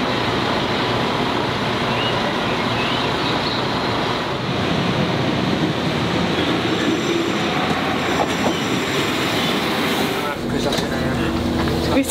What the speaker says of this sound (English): We saw the train come in.